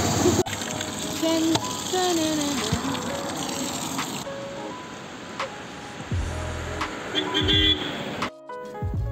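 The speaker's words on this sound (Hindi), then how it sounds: "अब आए हम जायरू का पानी लेने। अब हम ये भरेंगे 3 बोतल।" Water gushes and splashes steadily from a tap or pump into bottles outdoors, a continuous rushing flow with clunks and handling noises, while people talk over it.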